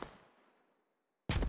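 A grenade detonates in Squad as a loud blast whose rumbling tail fades into near silence, followed about a second later by another sharp, very loud burst.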